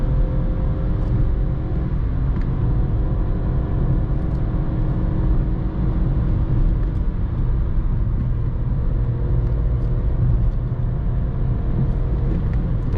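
A Skoda Fabia III with a 1.0 MPI 60 HP engine and DSG gearbox accelerates at full throttle on a curvy road, a steady loud in-cabin engine drone and road rumble without a break.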